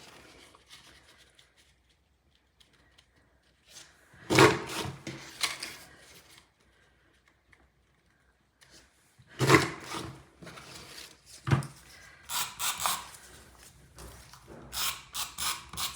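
A handheld paper punch working along a strip of cardstock, making several sharp mechanical clacks and crunches in short bursts separated by quiet pauses, close and fairly crisp.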